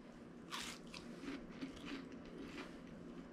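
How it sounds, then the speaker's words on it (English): Close, quiet crunching of someone chewing a crisp breaded chicken cutlet, a steady series of bites and munches with no talking. "Crunchy in the mouth"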